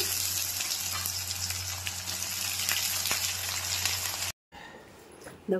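Onions frying in hot oil in a pan for Bengali mutton kosha, a dense steady sizzle and crackle close by, running unbroken for several seconds before abruptly cutting out to quiet background and a final clatter.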